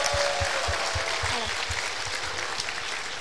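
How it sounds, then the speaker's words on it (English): Audience applause fills a school day show, dense steady clapping from a large crowd with a faint tonal hum underneath, holding strong throughout before easing slightly toward the end. "Let's encourage them with a huge round of applause."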